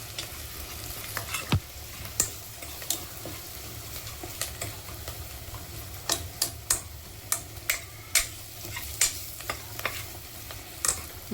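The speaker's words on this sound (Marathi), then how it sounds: "आपला घरगुती मसाला, घाटी मसाला छान हलवून घ्यायचं" Spoon stirring homemade ghati masala in a pan, a soft frying sizzle under steady taps and clinks of the utensil against the metal, faint and close, more frequent toward the end.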